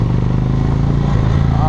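A 2017 Indian Springfield motorcycle pulls in third gear, its engine a loud, close, steady low rumble with wind rush throughout the short stretch.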